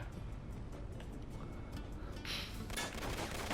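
Bursts of gunfire crackle in a sea battle in the video game Uncharted 3, a few scattered shots and short volleys at moderate level over a steady rumbling game backdrop, with no talk.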